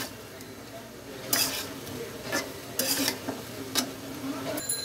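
A utensil stirs fried dried chillies into an olive pickle in a pan, giving soft scraping and a few sharper clinks against the pan over a faint steady sizzle.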